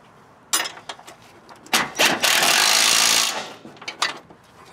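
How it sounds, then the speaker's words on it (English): Bolts being tightened on the front end of a 1976 GMC Motorhome with power tools: several short ratcheting bursts, then a sustained loud whirring run of about a second, followed by more brief bursts, close by. "I'm gonna start tightening everything up."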